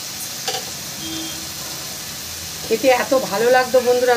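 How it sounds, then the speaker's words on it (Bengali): Chopped banana flower fries in a pan with a steady, close sizzle and hiss, and it gets louder toward the end as it is stirred. Someone talks over it. "মোচাটা একটু ভালো করে ভাজা ভাজা করে নেব।"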